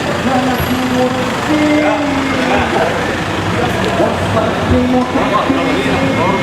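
Many cars and larger vehicles escort a long march procession to the Guru Sekumpul haul, giving a continuous, fairly loud engine rumble with drawn-out horn-like tones, under a voice talking.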